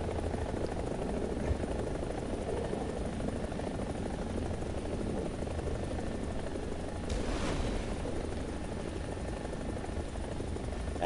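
A Ka-50 helicopter in War Thunder drones with a constant rotor and engine roar, steady and fairly loud, with no talking.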